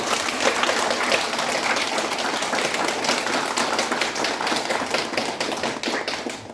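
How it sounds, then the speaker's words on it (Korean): An audience at a spiritual renewal retreat applauds two lecturers with loud, dense, sustained clapping that holds steady throughout, close and with no voices on top. "우리 두 분 회장님께 큰 박수 부탁드립니다"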